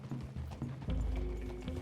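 Horse hooves in a video game Western forest scene, a few quick clip-clop steps followed by a louder low rumble, with a faint tonal hum underneath.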